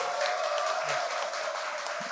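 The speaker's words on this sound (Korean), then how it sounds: "다시 한번 박수 한번" Applause from a political rally audience for newly elected Korean National Assembly members, a dense even patter of many hands clapping, steady and moderately loud for a couple of seconds.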